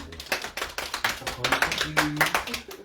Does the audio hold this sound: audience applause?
yes